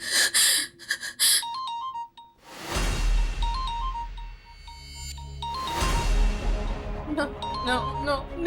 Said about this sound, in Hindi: नो नो, निखिल का फोन नहीं हो सकता।